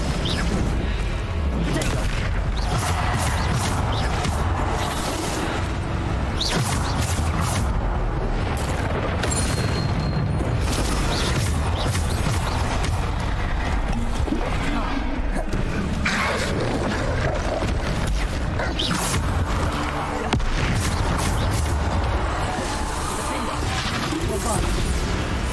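Bombarda explosion spells go off again and again in Hogwarts Legacy combat: repeated booming blasts and crashes over a dense, continuous bed of game effects and music, loud throughout.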